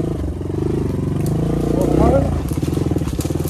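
A motorcycle engine rumbles steadily and close as the bike rides off-road through jungle, its pitch rising briefly mid-ride, while someone talks over the engine noise throughout.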